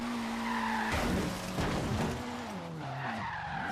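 A Ford Focus RS drifts in the racing game Forza Horizon 3: its engine drones loudly and shifts in pitch while the tires squeal and skid in a continuous, close slide lasting a few seconds.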